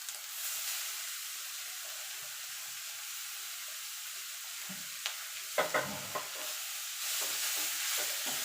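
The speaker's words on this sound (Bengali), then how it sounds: "এবার ভালো করে নেড়ে দেবো।" Grated beetroot and carrot sizzling in a frying pan, a steady hiss overlaid by a few scraping, clattering stirs near the end, close and fairly quiet, with no one talking.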